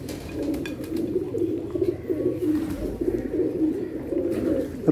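Pigeons coo continuously at close range, a low throaty burbling with a few flutters and scratches, no voices.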